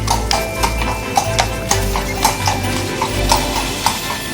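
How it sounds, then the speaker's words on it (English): A horse clip-clops over cobbled streets in Bruges, its hooves striking in a steady, evenly spaced rhythm of sharp taps at moderate distance, under a constant low hum of town background. "Oh look, it's Rudolph the horse."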